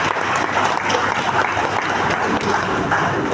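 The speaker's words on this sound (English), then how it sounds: "please give yourself a round of applause, please, for that." Audience at an anniversary celebration breaks into dense, sustained applause, a loud continuous wash of clapping from many hands that holds steady throughout without letup.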